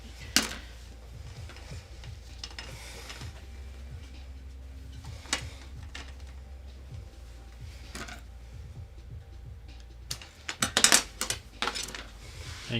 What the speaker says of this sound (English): And while this is hot, you can actually use scissors.